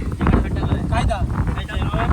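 Wind buffets the microphone in a steady low rumble, loud and continuous, with faint voices underneath, outdoors in rain on a trek in Konkan.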